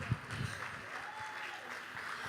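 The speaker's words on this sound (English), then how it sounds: "Please continue clapping until he gets to stage." An audience at a generative AI business event applauds as a speaker walks to the stage, the clapping soft and distant, steady throughout with a few sharper claps near the start.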